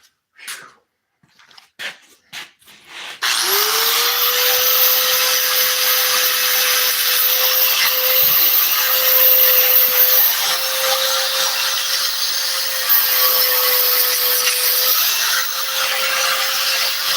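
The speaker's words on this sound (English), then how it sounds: "I'm going to take and square that up with this little grinder." A small grinder whines loudly and steadily for a long stretch while squaring up an armrest, starting after a few faint knocks and handling sounds, its pitch holding nearly constant with a slight wobble under load.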